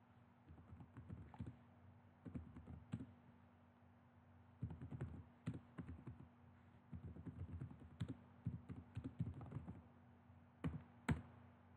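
Commands being typed on a computer keyboard, bursts of quick close key clicks separated by short pauses, quiet over a faint steady hum.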